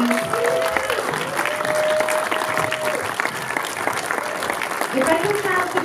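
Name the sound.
audience applause for a documentary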